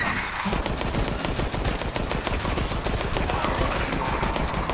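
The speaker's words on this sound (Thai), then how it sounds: "ยิงอยู่" Sustained rapid gunfire from Resident Evil Resistance on the Uptown map, a dense unbroken barrage of loud shots filling the whole stretch with no talk over it.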